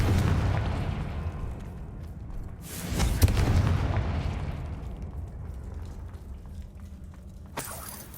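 Confringo fire spell blasts in Hogwarts Legacy, a rumbling explosive boom with crackling debris that swells and fades, then a second sharp burst near the end, loud and without speech.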